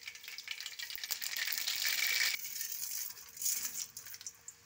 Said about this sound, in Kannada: ಸಾಸಿವೆ ಹಾಕ್ತಾಯಿದ್ದೀನಿ.